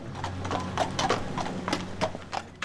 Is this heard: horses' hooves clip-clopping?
yes